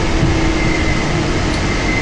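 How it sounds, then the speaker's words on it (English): Train running on rails in southeast London near Lewisham, heard from on board as a steady, loud continuous rumble and hum with no talking. "because I'm on the South Euston train"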